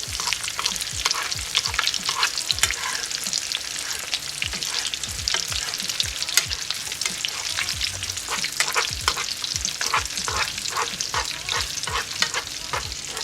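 A whole mangrove snapper fries in hot oil over medium-high heat, with a loud continuous crackling sizzle and frequent scraping, clinking spoon strokes as oil is ladled over the fish, no voices.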